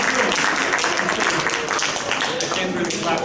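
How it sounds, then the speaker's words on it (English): An audience at a conference session breaks into applause, a dense, steady wash of clapping from many hands that fills the room for a few seconds, with voices mixed in. "Can we give them a round of applause?"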